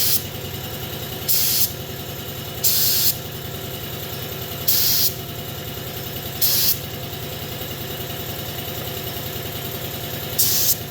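A spray gun spraying car paint in short hissing bursts, five separate blasts spaced a second or two apart, over a constant low engine-like hum from a nearby compressor.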